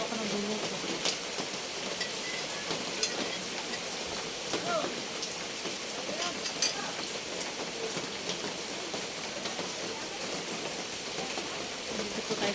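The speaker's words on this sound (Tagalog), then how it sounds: "Ulan po dito." Steady rain falls outdoors where rice cakes are being cooked, a dense, even hiss of drops on surfaces continuing throughout with a few sharper drips, moderately loud and without a break.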